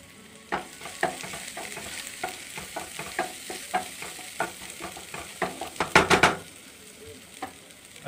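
Masala with turmeric is stir-fried in a pan, a soft sizzle broken by repeated spoon scrapes and knocks in an uneven rhythm that bunch into a quick flurry of strokes near the end, close up with no talking.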